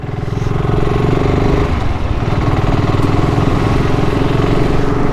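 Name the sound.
motorcycle engine exhaust note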